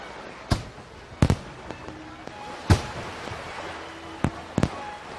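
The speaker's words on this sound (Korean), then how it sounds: "오색의 불꽃놀이가 밤하늘을 수놓았어요." Fireworks burst in a scattered series of sharp cracks and pops over a quiet background as a sound effect in a children's story of The Little Mermaid. A voice also talks.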